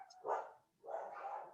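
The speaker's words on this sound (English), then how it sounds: "Sorry about the barking dogs." Dogs barking in the background, two short muffled barks separated by a brief pause, faint and somewhat distant.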